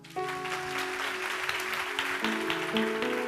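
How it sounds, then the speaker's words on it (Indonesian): A church congregation claps steadily in sustained applause during a sermon, with music tones held underneath. "Kasih tepuk tangan untuk Tuhan"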